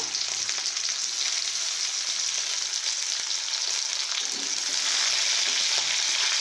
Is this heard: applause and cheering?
no